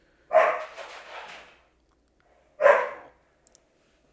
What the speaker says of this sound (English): My dog going crazy in the background